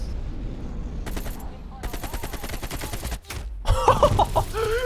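Rapid gunfire in the video game Black Ops Cold War, with bursts of automatic shots, a brief pause, then more firing mixed with game sounds and voices.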